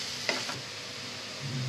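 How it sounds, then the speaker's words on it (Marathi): Mixed vegetables sauté over a medium flame for chilli garlic Maggi noodles, giving a steady close frying hiss with a brief utensil clink near the start and a stir at the end. "आता ना मी गॅसची फ्लेम जी आहे ती मीडियमच ठेवली आहे आणि त्यावरच आपण ना 2 ते 3 मिनिटं भाज्या परतून घेऊयात."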